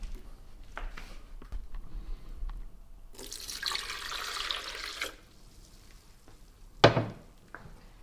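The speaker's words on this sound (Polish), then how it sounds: "Wrzucamy sobie szklaneczkę wody, trochę płynu" A glass of water pours into a blender in a brief rushing burst, stops, then a short sharp splash follows, amid quiet background noise.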